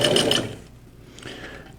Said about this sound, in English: A little top stitch, just to hold it all together.